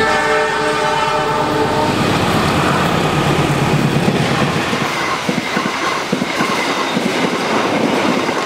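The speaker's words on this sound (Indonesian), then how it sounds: "Kereta api Mataram yang saya naiki persiapan masuk di stasiun Kebumen." Rumble and rattle heard aboard the Mataram business-class passenger train as it approaches Kebumen station, a sustained horn tone at first, then steady wheel clatter and rolling rumble.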